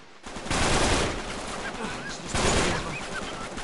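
Sniper fire in Uncharted 3 booms in heavy, reverberant blasts that swell and fade, with shouted voices mixed through the din.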